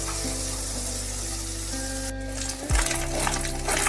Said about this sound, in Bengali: বেশ একটু ভালোভাবে মাছগুলোকে ভেজে নিতে হবে।